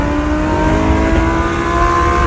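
An Audi R8 accelerating hard on a freeway during a run against a C8 Corvette, its engine a loud, sustained rising drone with steady tonal harmonics and no pauses, close to the recording.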